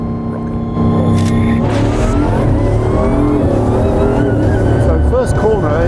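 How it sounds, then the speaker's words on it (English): Race car taking off hard as the pit speed limiter is released, its engine surging from a steady buzz into a loud rising roar with shifting revs, close and dominant. "just pull the limiter off and it just takes off like a rocket"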